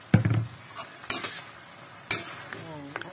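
Vegetables tossed into pork frying in a pan, a bright sizzle that flares as they land, with scraping and clinking stirs of a utensil at uneven intervals.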